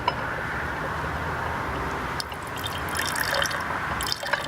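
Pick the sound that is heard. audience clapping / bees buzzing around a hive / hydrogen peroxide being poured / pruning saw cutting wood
hydrogen peroxide being poured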